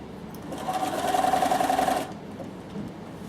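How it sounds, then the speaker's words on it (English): A sewing machine stitches white Velcro onto a fabric pouch in one steady, close whirring burst of about a second and a half, then stops, leaving a quiet room. "I'm just sewing it in white"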